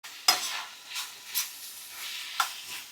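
A spoon stirs saltfish seasoned with black pepper in a hot frying pan, several short scraping strokes over a soft sizzle, close and clear with no talking.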